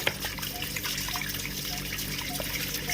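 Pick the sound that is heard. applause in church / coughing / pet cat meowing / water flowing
water flowing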